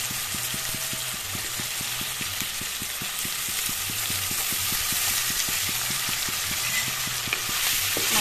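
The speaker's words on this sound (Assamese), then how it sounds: "এতিয়া মাছখিনি এপিচ এপিচকৈ বহুৱাই দিম" Fish pieces being laid one by one into hot oil with ginger, garlic and chili paste, a continuous close sizzle with regular rhythmic clicks and scrapes of a spatula against the pan.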